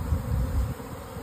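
Honeybees buzz at a hive entrance in middle Tennessee on a warm 69-degree March day, a dense, steady droning hum close by, with no other sounds and no talk.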